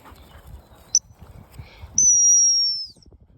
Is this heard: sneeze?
no